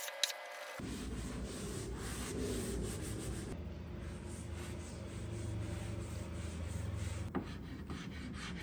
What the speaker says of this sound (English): I like to come back with a really fine wire brush, usually a brass brush or a nylon brush, something that doesn't damage the wood.